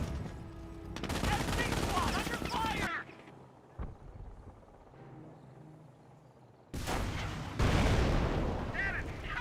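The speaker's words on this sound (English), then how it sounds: "These units getting pinned down by the MG42." MG42 machine gun fire in the Company of Heroes video game rattles in two loud extended bursts separated by a quieter stretch with a single sharp crack, with occasional voices.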